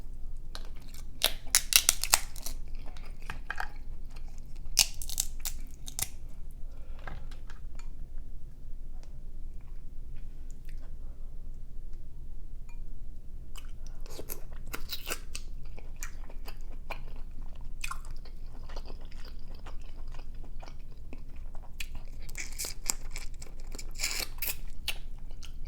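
Snow crab being eaten close up, with repeated sharp shell cracks and snaps scattered among quieter chewing and smacking, in irregular bursts throughout with no talking.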